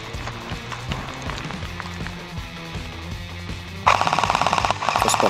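Rapid bursts of gunfire from a game, sharp repeated shots over a rhythmic background beat, growing louder and denser near the end.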